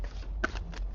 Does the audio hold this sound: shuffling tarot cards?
yes